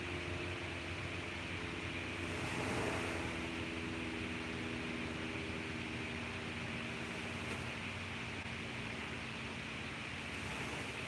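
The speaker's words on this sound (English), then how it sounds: "listen to those baby waves that are so relaxing" Soft, steady wash of gentle ocean waves on a beach, a continuous hiss with slight swells, calm and even with no voices.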